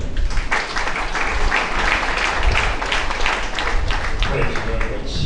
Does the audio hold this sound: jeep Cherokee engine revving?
no